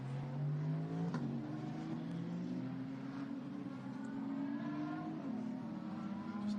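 WEC endurance race cars pass at the Imola circuit, their engines merging into a continuous, fairly loud drone whose pitch rises and falls as cars go by. No voices are heard.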